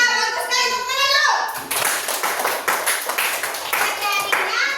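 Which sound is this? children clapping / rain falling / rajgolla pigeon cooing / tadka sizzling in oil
children clapping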